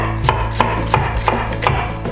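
A knife chops an onion on a board for a flu soup, with about six sharp, close, evenly spaced strikes and no talking.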